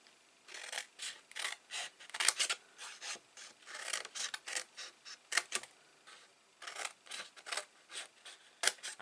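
Scissors snip through card in a quick series of short, crisp cuts at close range, each a brief rasping slice with small pauses between.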